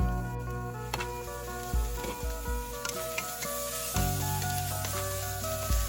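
Pork bones stir-frying in a pan for a pork bone curry with pumpkin, a continuous close sizzle with occasional scraping and knocking from stirring, without any voices.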